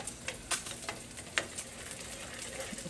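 Citrus butter sauce stirred in a pan, a quiet sizzle with soft scraping taps of a spoon against the pan, a few brief louder clinks, no talking.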